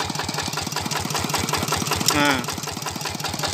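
An 11 HP Kubota diesel engine with a balancer drives a 6-inch Ebara water pump, thumping in a fast, steady rhythm close by, with a brief spoken word over it.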